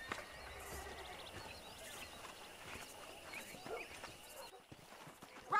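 A horse whinnies and its hooves clip-clop at a walk on open ground in the Western video game Red Dead Redemption, moderately close amid steady outdoor ambience and chirping birds, with a louder burst at the very end.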